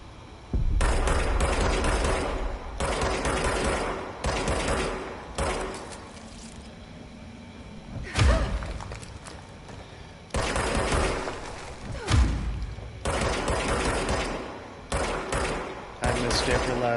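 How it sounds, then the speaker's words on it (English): Rapid bursts of gunfire from the video game Control repeat in several loud volleys separated by brief pauses, with a couple of sharp isolated reports in between. "I missed every last one of those shots?"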